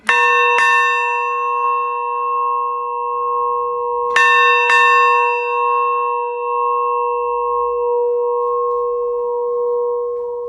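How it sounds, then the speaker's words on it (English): Full-size cast copy of the Lloyd's ship bell from 1858, struck twice near the start and twice around four seconds, each loud strike leaving a long ringing tone that fades slowly. "So this is the bell that's rung at Lloyd's when a ship sinks."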